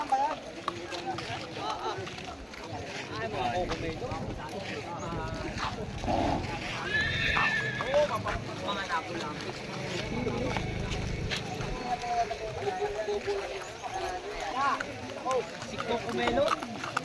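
Horses in a fight neigh and whinny amid running hoofbeats and a steady noisy crowd, with voices talking over the scuffle throughout.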